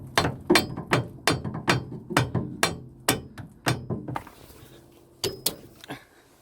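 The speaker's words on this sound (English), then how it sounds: "I'm going to whack it upwards with a rubber mallet to see if that loosens it" A rubber mallet strikes upward on the drop link of a VW T3 van, about a dozen sharp, close knocks in an uneven rhythm, then a short pause and a few more blows.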